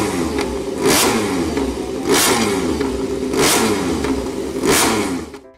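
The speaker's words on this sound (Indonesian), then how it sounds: "Di sini ada MotoGP." Toy MotoGP motorcycle giving a loud, continuous engine revving sound, surging in four regular waves as the pitch rises and falls, heard alone and close up.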